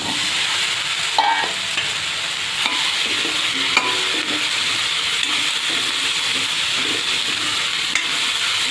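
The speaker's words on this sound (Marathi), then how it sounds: "आता याच्यात आपण फ्लावर आणि बटाटा घालूया।" Cauliflower and potato pieces hit a hot pan and are stirred, giving a loud, steady sizzle with scraping and a few clinks as the vegetables are moved around.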